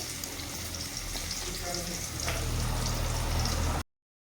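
Chopped onions fry in a pan, a loud steady sizzle with bubbling that swells slightly partway through, then stops abruptly near the end.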